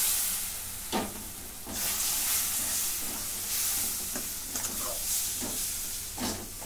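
Milk poured into gram flour roasting in a pan sets off a steady hiss and sizzle, with a few sharper bursts of spattering as it is stirred.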